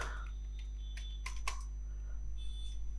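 Keys on a computer keyboard tap out a single word in a quick scatter of light clicks, close and fairly faint over a steady low hum.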